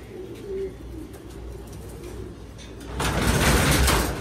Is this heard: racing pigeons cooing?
yes